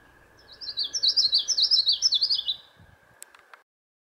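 A common yellowthroat warbler sings a single bright, rapid rolling phrase of repeated chirping notes lasting about two seconds, clear and fairly close against a quiet background, followed by a few faint ticks.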